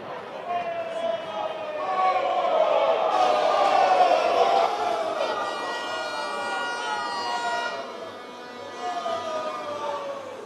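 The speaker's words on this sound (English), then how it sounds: "with a resounding round of applause, let's make welcome the Honorable Ejapa Mesa" A large outdoor crowd roars and applauds at a 2024 NPP manifesto launch rally, loud and sustained for about ten seconds, with horns and whistles sounding over it and a brief dip near the end.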